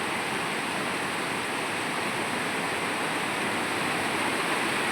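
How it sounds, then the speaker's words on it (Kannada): A swollen river beside an areca nut plantation rushes steadily, a constant broadband wash of water without pause or variation, with no voices. "ಇವತ್ತು ನೋಡಿ ನದಿಯಲ್ಲಿ ನೀರು ಸ್ವಲ್ಪ ಜಾಸ್ತಿ ಇದೆ"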